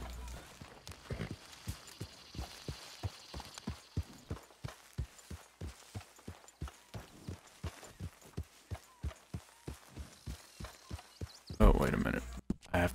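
A horse's hooves clop in a steady walking rhythm in Red Dead Redemption 2, evenly spaced thuds continuing throughout, ending in a sudden louder burst of noise.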